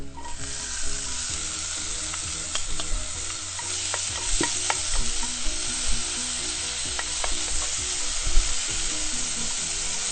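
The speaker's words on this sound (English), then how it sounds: "so now we just stir it. We warm up the vegetable." Vegetables for noodles, beside scrambled egg, sizzle steadily in a hot pan, with light taps and scrapes of a spatula scattered through the continuous frying hiss; nobody talks.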